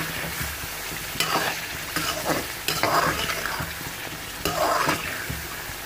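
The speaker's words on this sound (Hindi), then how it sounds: "अब हमने इसकी अच्छी तरह भुनाई थोड़ी सी करनी है" Chicken karahi with yogurt and black pepper sizzles steadily in oil while being stirred, with a constant frying hiss and periodic scraping strokes of the spoon across the pan, close and moderately loud.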